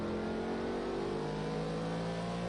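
On-board engine of a GT3 race car in a racing video game at the Sugo circuit, a steady, loud, continuous drone held at high revs throughout, with no talking.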